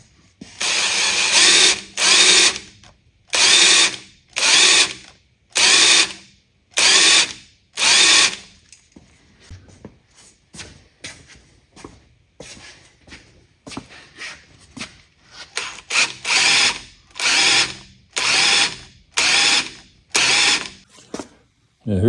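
A power drill spins the oil pump of a remanufactured engine for a 1964 Galaxie build in repeated loud, close bursts of whirring with a ratcheting edge, each lasting about a second, separated by short pauses and a longer quiet gap midway.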